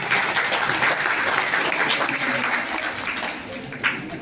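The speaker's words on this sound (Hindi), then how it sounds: "तालियां मारो भाई" A crowd at an annual prize-distribution program at a madrasa claps steadily for a student's perfect attendance, a dense, sustained round of applause with faint voices underneath.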